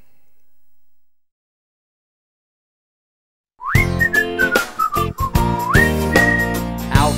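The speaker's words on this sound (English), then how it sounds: "Yes, I just give a whistle." After a second of quiet, a person whistles clearly and loudly for a Kelpie dog, a sliding call with rising and falling notes amid sharp clicks and knocks.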